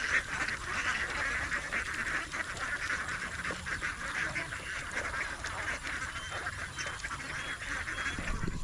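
A flock of ducks in a pasture quacks continuously at a moderate distance, a dense, overlapping chatter of calls that keeps a steady level throughout with no people talking.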